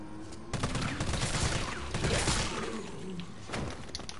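Dense, sustained gunfire from the Resident Evil 3 Remake video game, rapid shots blurring into a continuous loud barrage with a brief lull before it starts and short breaks near the end.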